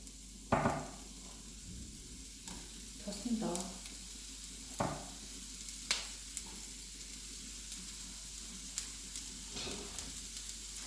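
Oil sizzling in a hot frying pan while cooking for a lentil salad: a faint, steady hiss with occasional clinks and light taps from utensils, quiet and close.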